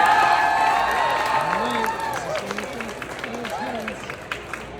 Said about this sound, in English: let's give them another huge round of applause for helping out today